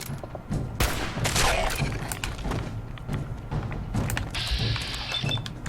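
Fallout 4 gunfire in VATS: several sharp shots and thuds hit in quick, uneven succession over game background sound, with no talking.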